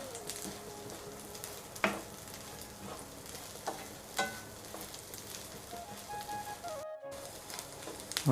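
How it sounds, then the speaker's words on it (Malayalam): Dry prawns fry on a low flame for a pickle, a soft, steady sizzle broken by occasional scraping stirs and clinks from a spoon, with a brief dropout near the end. "ഒരു 5-10 മിനിറ്റ് കൊണ്ട് തന്നെ ലോ ഫ്ലെയിമിൽ ഫ്രൈ ചെയ്തെടുത്താൽ മതി"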